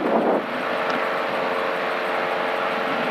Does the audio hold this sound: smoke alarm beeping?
no